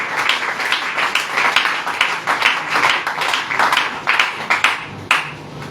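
A church congregation claps and applauds together in a sustained, irregular burst of many hands, fairly loud and close, continuing for several seconds with uneven peaks.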